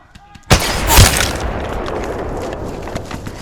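A single heavy paintball shot from an oversized Kraber-style paintball sniper rifle fired from brush in an outdoor game: a sharp loud crack followed by a long, broad noisy rumble that trails off.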